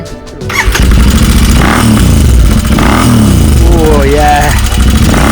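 A 2007 Triumph Thruxton 900 motorcycle with its baffles still in starts up and revs, its loud engine note rising and falling steadily at a club ride gathering, with people talking briefly over it.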